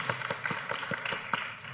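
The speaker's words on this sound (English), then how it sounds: "Big round of applause." Applause from an audience at a university evening event in Southern Studies, a fairly thin round of clapping with distinct hand claps standing out, moderately close and without talk.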